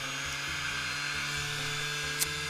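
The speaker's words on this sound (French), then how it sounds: "On branche la ponceuse puisque c'est un système filaire." A steady, high-pitched electric whir from a corded Bosch PSM 200 AES sander running continuously nearby, with a faint low hum underneath.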